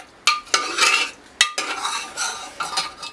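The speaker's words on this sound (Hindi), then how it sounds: "हम सांभर में डाल देंगे। इसे फिर से स्टर करेंगे" A spoon scrapes and clinks against a metal pressure cooker as sambhar is stirred after strained tamarind water goes in, giving a series of quick, close, loud strokes with short pauses between them.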